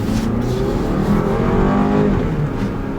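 A 2018 BMW X3 xDrive30i with a 2-liter turbocharged engine and 8-speed automatic accelerates hard, a steady rising engine note heard from inside the cabin.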